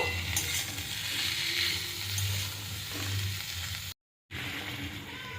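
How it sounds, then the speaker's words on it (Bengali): Vegetables tossed with salt, turmeric and sugar in a pan for a Bengali bati chorchori give a steady sizzle and scraping stir, broken by a brief cut near the end before the frying resumes. "সব কিছু খুব ভালো করে মিশিয়ে নেব"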